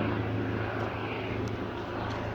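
A police helicopter drones steadily overhead, its engine and rotor noise a constant, fairly loud hum.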